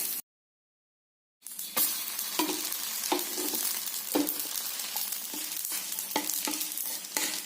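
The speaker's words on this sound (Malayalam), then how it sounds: "മൂന്ന് ചെറിയ അപ്പങ്ങൾ ഒരു ദോശക്കല്ലിൽ" Three small appams frying on a dosa griddle give a steady close sizzle with scattered crackles and clicks. A brief silence comes before the sizzle begins.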